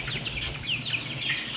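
Chickens cluck and chatter up close in a short burst while being carried to a new outdoor pen.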